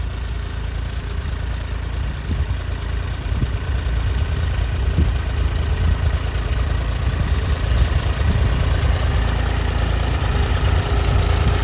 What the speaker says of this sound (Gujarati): કેવો ટ્રેક્ટર આપણો હાલે છે કોરામાં